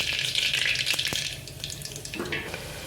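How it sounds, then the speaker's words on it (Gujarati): Mustard seeds drop into hot frying oil while cooking an ivy gourd and potato dish, giving a steady, bright sizzle and crackle with a few small pops and clicks. "હવે થોડીક આપણે રાઈ નાખી દઈશું।"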